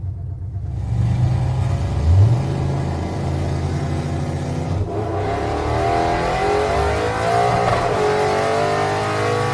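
A 1967 Pontiac Firebird makes a nitrous-assisted drag pass, its engine roaring loud and close as it launches and pulls hard, with rising revs through the gears and no talk.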